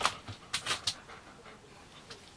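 A dog pants in a few quick, breathy bursts close by, then the breathing fades to faint puffs in an indoor setting.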